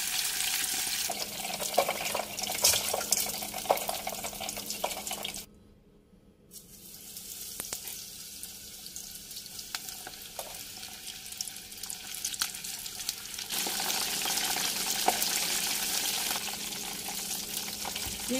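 Capelin (shishamo) deep-frying in oil, a constant bright bubbling hiss that drops out briefly and then returns, steady and close with no voices.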